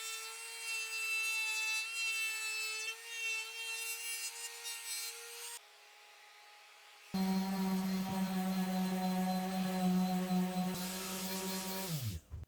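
Steady abrasive rubbing of sandpaper on a wooden bowl, with whining tonal overtones from a spinning lathe, pausing briefly before resuming louder and ending abruptly.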